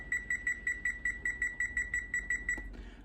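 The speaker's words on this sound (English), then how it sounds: "So I'm going to set my timer." A kitchen timer beeps in a quick, regular train of about a dozen sharp electronic chirps while being set, close and clear, ending with a clack.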